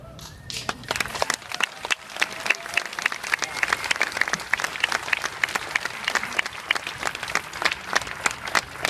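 An audience at a speech in Ottawa by Justice Murray Sinclair claps in sustained applause, a dense crackle of many hands that stays loud and even throughout.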